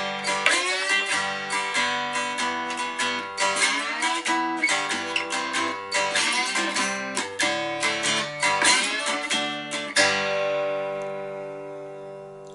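A cigar box guitar strummed and picked by hand, playing a simple piece of music. Bright, ringing chords come in a steady, close rhythm, then a final strum lets the strings ring out and fade.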